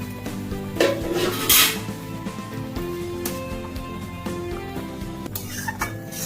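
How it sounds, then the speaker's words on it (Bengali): A lid is lifted off a pot of simmering egg poach curry with a metallic clank and scrape, followed by soft bubbling and a few light clinks of cookware. "ঢাকাটা খুলছি"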